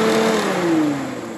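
Radiator cooling fan of a VW Mk1/Mk2 Golf spins at high speed, giving a loud, steady whirring drone with a slight downward drift in pitch as it settles.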